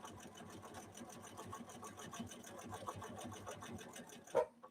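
A Bernina Activa 130 sewing machine stitching at a quick, even rhythm, its needle tapping out a steady mechanical pulse before stopping with a small clunk at the end.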